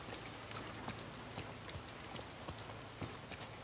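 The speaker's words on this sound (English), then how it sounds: "Gosh, it is raining hard." Heavy rain in the video game The Last of Us Part II, set in Seattle, a constant faint patter with scattered sharper drips spread across the scene.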